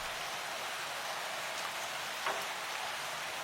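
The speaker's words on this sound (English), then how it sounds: "The world's largest bovines withstand the heavy downpour." A heavy downpour falls in Jaldapara National Park, a dense, unbroken roar of rain that stays steady and full throughout, with no voices.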